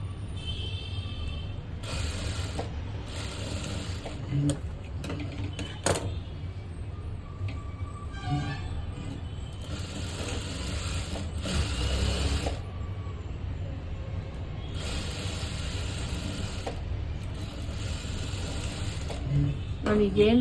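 Sewing machine running in short bursts while stitching a blouse, a steady mechanical whir with rapid needle ticking that starts and stops several times, close and fairly loud throughout.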